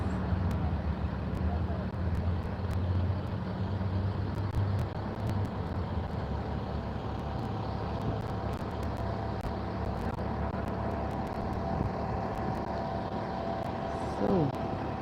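Steady road traffic rumbles at a bus station, a continuous low drone of passing cars and heavy vehicles with a brief louder swell near the end, while a person talks over it.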